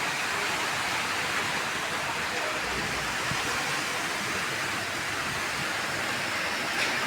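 Heavy rain pours steadily onto tin roofs, a dense, unbroken hiss that stays loud and even throughout with no voices.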